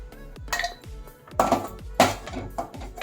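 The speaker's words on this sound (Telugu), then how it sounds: "ఇప్పుడు ఈ వేయించుకున్న జీడిపప్పును కూడా ఒక్కసారి ఈ మిక్సీలో వేసేసి క్రష్ చేసుకొచ్చుకుందాం" A kitchen mixer grinder crushes roasted cashews into coarse pieces in short pulses: close bursts of rattling, clattering nuts over a whirring motor that winds down between each of several quick spins.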